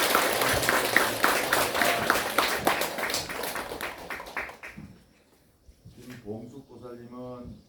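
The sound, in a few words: audience applause at Buddhist ceremony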